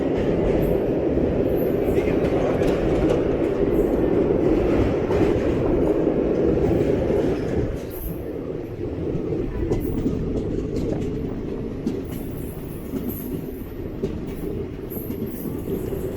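Heard from on board, the 12081 Kannur–Thiruvananthapuram express crosses the Periyar river bridge with a loud, steady rumble and rolling clatter that eases slightly partway through.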